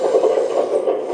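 A HUINA Kabolite 1/14 hydraulic RC excavator's synthetic track sound effect, a steady mechanical grinding rasp with slight rhythmic pulsing, like small tracks clattering, continuous and close throughout.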